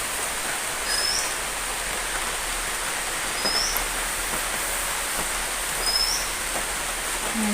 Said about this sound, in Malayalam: മഴ പെയ്തുകൊണ്ടിരിക്കുന്നു.